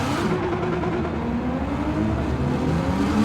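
A rear-wheel-drive V8 muscle car in a Gran Turismo 7 drag race roars under steady throttle, a dense, loud engine drone that holds for the whole span with slight rises in pitch.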